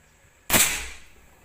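A single sharp shot from a Predator Tactical 500cc folding air rifle, cocked with a side lever: one loud, close crack that decays over about a second, with no other sound around it.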